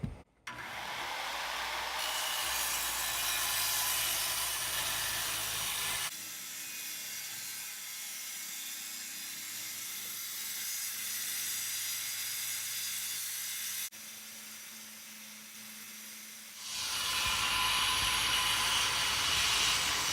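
A skill saw cutting wood, a loud broadband whine and hiss that starts, runs for several seconds, drops to a quieter hum, then surges loud again near the end, close and with no talk.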